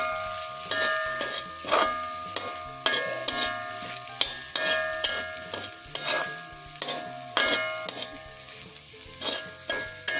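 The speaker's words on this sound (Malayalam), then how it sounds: "ഇതിനി നമുക്ക് നന്നായിട്ട് ഇളക്കി ഇതുമായി യോജിപ്പിക്കാം." Green beans are stirred with grated coconut and chili powder in a pan, giving repeated scraping and clinking strokes at a steady rhythm over a light sizzle, close and clear, with no talking.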